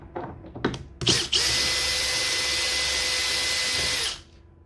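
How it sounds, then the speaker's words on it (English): A power drill takes out the screws on a fridge door. After a few short handling clicks and quick bursts, it runs loud and steady for about three seconds, then stops. "there'll be 3 screws that you just need to loosen and remove"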